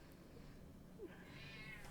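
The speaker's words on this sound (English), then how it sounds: "We have a kitty! Hi. We have a purr." A pet cat meows once, a short rising call, then a brief, faint higher cry over a steady low background hum.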